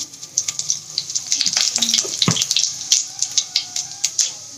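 Cumin seeds crackle and sizzle in hot oil for a green tomato chutney, a loud, steady frying hiss dotted with sharp pops and spits throughout, no voices.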